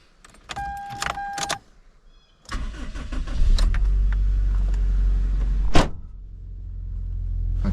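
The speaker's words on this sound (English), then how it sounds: "we'll go ahead and give it a cold start." A 1998 Toyota Corolla Levin coupe, a right-hand-drive JDM car that is semi-cold, starts up: keys jingle and click in the ignition, then the starter cranks briefly before the engine catches and settles into a steady, loud idle heard from inside the car.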